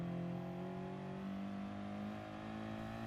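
Audi TT Cup Gr. 4 race car accelerating around the Nurburgring GP circuit in Gran Turismo Sport, a steady loud engine drone with a gradually rising pitch, constant and close throughout with no voices.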